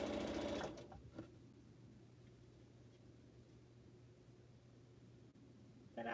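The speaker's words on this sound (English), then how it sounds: "So this is our third side that I'm sewing on now." A sewing machine hums faintly and steadily while stitching pineapple quilt blocks, following a brief louder rattle at the start.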